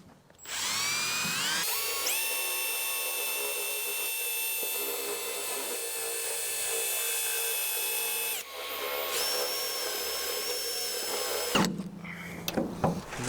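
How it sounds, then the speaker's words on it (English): A power drill bores out spot welds on the sheet-metal roof of a BMW E46 M3, a steady high-pitched whine that runs for several seconds, pauses, then resumes, close and loud with scraping bursts near the end. "you kind of want to drill them open, but you don't want to go all the way through"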